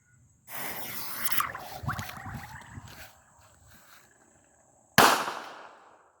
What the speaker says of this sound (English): Now let's see what my firecracker does underwater.